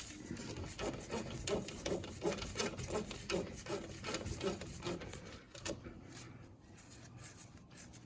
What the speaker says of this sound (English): So we'll take this bolt off on the bottom.